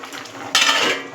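A lid lands on a pot of fish curry with fish-roe fritters, potatoes and yardlong beans, making one short clattering metal knock midway, followed by a soft simmering hiss; no voices.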